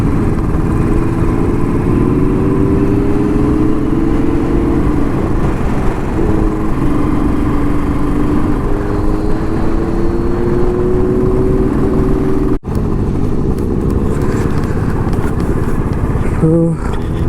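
A motorcycle engine drones steadily and close on a road ride toward Thokarwadi Dam near Pune, a constant hum with slight pitch shifts and a brief dropout near the end.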